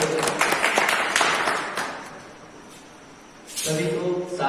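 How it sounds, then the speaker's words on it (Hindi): Children at a farewell ceremony of the Taran gurukul in Semalkhedi clap in a burst of applause that swells, tapers off, then resumes briefly near the end. "जोरदार तालियां बच्चों"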